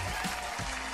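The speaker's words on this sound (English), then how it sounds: "Let's clap that up." Brief burst of hand clapping from a small group in a talk show studio, dense and close, lasting under a second with voices murmuring alongside.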